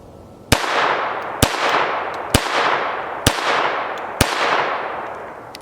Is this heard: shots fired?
yes